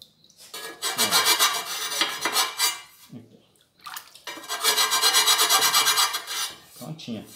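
Edge of a stone sink being ground and trued, giving loud harsh rasping bursts in two long passes with a short pause between, close up with no talking.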